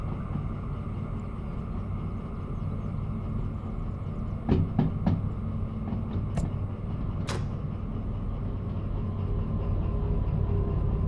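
Locomotive engine running in Derail Valley, a steady low diesel rumble and drone heard from inside the cab, with a few brief sharp clicks and clanks partway through.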